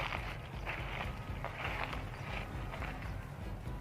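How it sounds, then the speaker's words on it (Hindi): Someone walks outdoors in a horror film, soft footsteps landing in an irregular rhythm, faint and close over a low windy background. "तो चलने की आवाज़ आ रही है, कोई है?"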